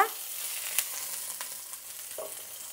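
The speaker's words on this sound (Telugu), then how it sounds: "పచ్చిమిర్చి పచ్చి వాసన పోయేదాకా వేయించుకుందాము" Green chillies, ginger and cumin frying in a spoonful of oil for uttapam, giving a soft, steady sizzle close by with a few light clicks of stirring and no talk.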